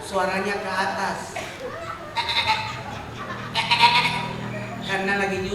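A person mimics a young goat, producing several rising, nasal bleats between stretches of speech, close and loud, with a brief chuckle mixed in.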